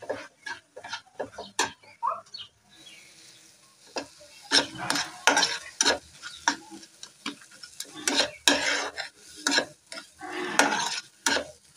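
Spices and red chili frying in a pan, a soft sizzle under frequent scraping and stirring clatter of a spoon against the pot, with irregular knocks throughout.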